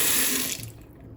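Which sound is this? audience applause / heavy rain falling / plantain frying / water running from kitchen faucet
water running from kitchen faucet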